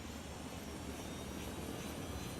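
A helicopter in the video game Ghost Recon Wildlands gives off a continuous, even rotor-and-engine roar that fills the whole stretch at a steady level.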